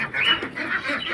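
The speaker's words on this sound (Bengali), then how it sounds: "এই হাঁসগুলো এবার খুলে দেবো, তখন থেকে খাবো বলে pack pack pack pack pack pack করেই যাচ্ছে" Penned ducks quack in a steady, overlapping clamour while waiting to be let out for food, a dense, close chorus with no pauses and no talking.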